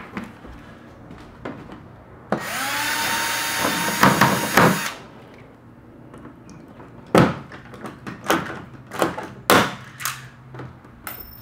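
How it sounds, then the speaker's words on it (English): Power drill boring a hole during a Club Car Sleekline golf cart body installation, one sustained whirring burst of about two seconds, followed by a series of sharp knocks and clunks from handling parts nearby. "we're going to drill another one."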